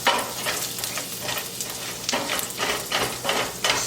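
Ginger fries in a pan for Mongolian beef, giving a close, continuous sizzle with rhythmic bursts as it is stirred every half second or so.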